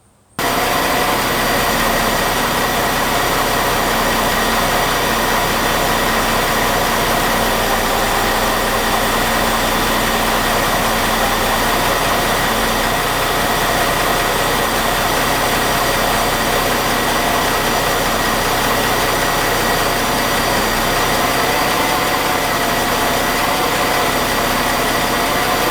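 A car engine idles steadily and loudly for the whole stretch, a constant low rumble with a faint mechanical whine and no talking.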